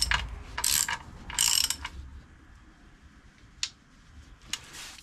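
A ratchet clicking as bolts on a Classic Mini A+ Series engine are nipped up during a rebuild, two quick close bursts of ratcheting followed by a couple of faint isolated clicks in a quiet workshop.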